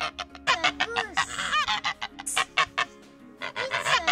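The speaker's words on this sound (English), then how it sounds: "goose. It's a goose." A goose honks repeatedly in quick bursts, loud and close, with several overlapping calls and short gaps between them.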